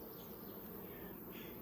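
Honey bees hum in a steady low drone from an opened hive during a summer inspection, faint and continuous with no voices.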